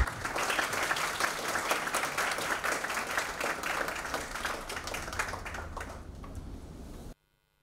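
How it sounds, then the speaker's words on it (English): An audience in a hall breaks into sustained, dense applause that holds steady for several seconds, then fades a little and cuts off abruptly. "let's have a huge round of applause for Shri Sushil Chandra sir"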